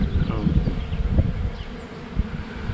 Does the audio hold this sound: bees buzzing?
yes